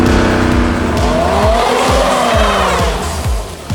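An off-road SUV on rough terrain, its engine revving hard and continuously while the wheels spin and slip, loud and close, with rhythmic thumps and scrabbling tyres throughout.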